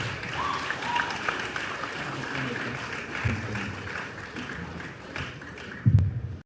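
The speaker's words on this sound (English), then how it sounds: "Please, a round of applause." An audience at a medical event gives a round of applause, moderate clapping that carries on steadily at some distance, with a few louder thumps and bumps near the end.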